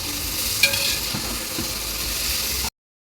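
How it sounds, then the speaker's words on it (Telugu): Biryani ingredients, onions with cloves and cardamom, frying in a pan until golden brown, giving a steady close sizzle with light stirring scrapes, then a brief cutoff near the end. "సో ఇది గోల్డెన్ బ్రౌన్ వచ్చే వరకు మేము ఫ్రై చేస్తూ ఉండాలి"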